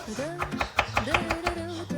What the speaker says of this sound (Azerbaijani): Bugün isə biberləri yuyub doğrayıram.